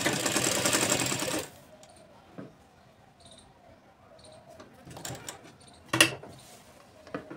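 A sewing machine runs a straight stitch through fabric to attach a pocket on palazzo pants, a brief loud whirring burst at the start, followed by quiet handling clicks and a few scattered sharp knocks.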